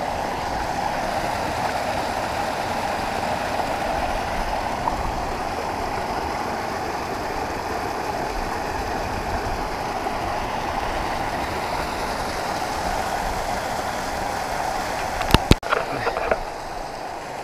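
A mountain waterfall on Glyder Fach in Wales, with steady broadband rushing water that holds evenly throughout, plus a few sharp knocks near the end.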